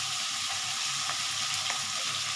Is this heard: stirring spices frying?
yes